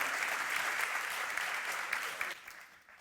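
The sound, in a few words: audience round of applause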